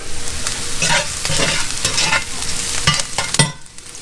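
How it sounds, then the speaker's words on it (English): Garlic sizzles in a hot pan while being stirred, a steady close crackle with repeated scraping strokes of the utensil before it quiets at the end. "Give it a few seconds to cook the garlic a little bit."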